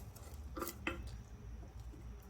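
A spoon stirring ginger garlic soup with cabbage and carrots in a pot, two quick quiet clinks of metal against the pot over soft background noise.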